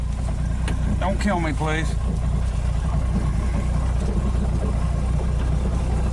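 A 1961 Dodge Lancer on its first drive in 30 years, carburetor out of tune, runs with a steady low engine drone under close voices talking throughout.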